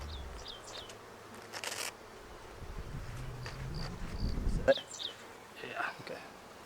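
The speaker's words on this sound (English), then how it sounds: "Got to get all these other bees out of here" Bees hum in a low buzz near a beehive being split outdoors, with brief swells as insects pass close, while people move around and talk faintly.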